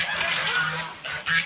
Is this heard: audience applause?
no